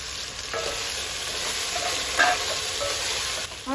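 Vegetables for a vegetable biryani sizzle and fry in a pan, with a steady broadband hiss and occasional stirring scrapes, close and continuous with no talking.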